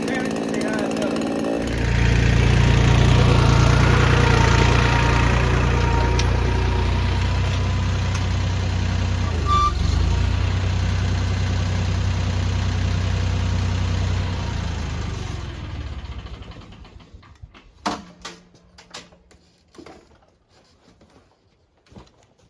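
Dereal Pro chainsaw engine idling steadily at close range without the choke, a loud continuous drone that cuts off near the end, followed by scattered handling clicks and knocks.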